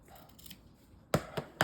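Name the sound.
cutting something in half with scissors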